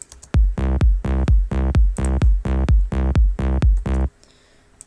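A deep, punchy bass note from an electronic music track made in FL Studio repeats in a steady rhythm about ten times, loud and upfront, then cuts off, leaving faint background hiss.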